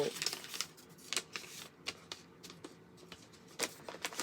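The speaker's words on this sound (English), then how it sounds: "This card does not want to leave the envelope." A greeting card scrapes and slides against its paper envelope in a run of short, papery rustles and crisp flicks, close and fairly quiet, with no talking.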